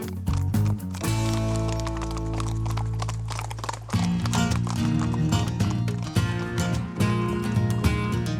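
Horse hooves clip-clop steadily under sustained music, with a possible whinny, from a horse on a long-distance riding trek through Ariège in France.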